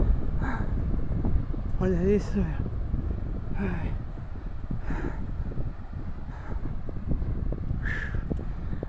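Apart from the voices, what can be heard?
wind blowing on sand dunes trail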